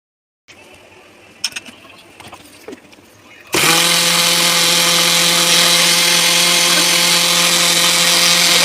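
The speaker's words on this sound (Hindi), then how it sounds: "ब्लेंडर को 2 से 3 मिनट तक चलाएंगे ताकि छाछ में बहुत अच्छे से झाग बन जाए" An electric kitchen blender whirs loudly and steadily as it churns buttermilk with raw mango, chilli and mint leaves, starting abruptly after a few seconds of soft clatter and handling noises.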